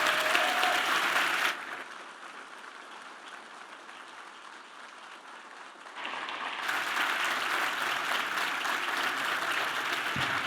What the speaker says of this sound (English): let's give everyone a huge round of applause